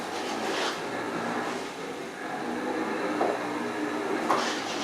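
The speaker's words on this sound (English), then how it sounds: "The noise you're hearing of the motors, these are HD motors, so they're a little more noisier." Electric wheelchair with HD motors driving around in a circle at fast speed, a steady loud mechanical whir and rumble that runs continuously with slight swells, no talking.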